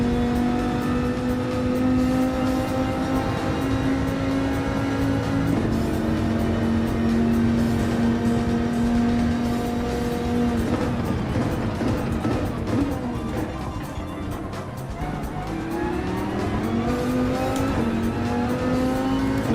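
Dodge Viper GTS-R Gr.3 race car in Gran Turismo 7 lapping the Deep Forest circuit: a loud, continuous engine drone rising and falling through gear changes, with brief tire squeal as it brakes and accelerates through corners.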